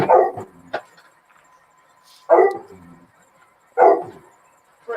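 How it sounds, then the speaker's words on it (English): A dog barks three times, spaced a couple of seconds apart, fairly close and loud against a quiet background. "What are you barking at?"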